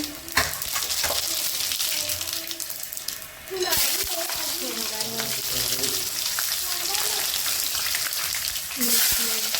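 Onion, chilies, cumin and mustard seeds frying in a pan for poha, a loud continuous sizzle with stirring scrapes and a brief dip as ingredients go in, close up.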